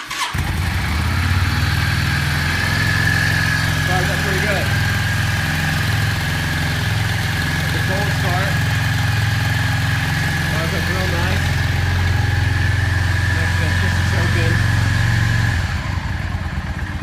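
A 2004 Yamaha V Star 650 shaft-driven motorcycle engine starts and settles into a steady, rumbling idle, running continuously up close for the whole stretch.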